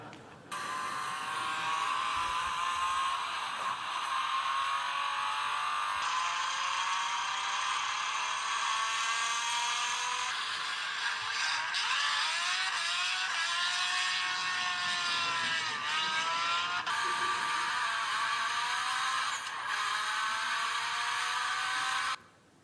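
Modified, non-original car sounds in a driving technology demo with holographic and augmented reality displays: a continuous whirring, electric tone that rises and falls in pitch over about twenty seconds, steady and fairly loud, without speech.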